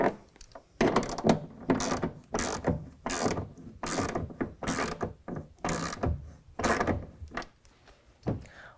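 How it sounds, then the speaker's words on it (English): A half-inch ratchet tightens a rail clamp for a TruXedo Pro X15 tonneau cover on a 2019 Ford Ranger, sounding as repeated loud bursts of rapid clicking close by, each stroke separated by brief pauses. "with a 1/2 inch wrench or ratchet, tighten that down"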